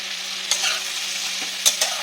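Close sizzle of ridge gourd and shrimp frying with mustard in a pan, a steady hiss with a few sharp scrapes of stirring, no voices.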